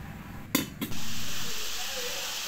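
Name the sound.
coconut murukku dough frying in hot oil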